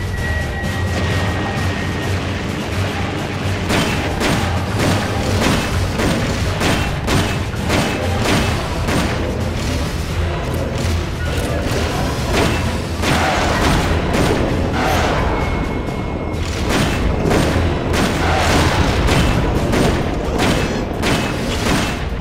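Rocket launcher fire in Metal Gear Solid: Peace Walker, a loud run of repeated booming blasts and thuds, close and continuous, with explosions stacking on each other.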